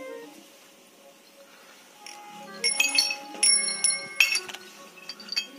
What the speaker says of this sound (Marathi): आता आपल्याला घंटी ओवून घ्यायची याच्यामध्ये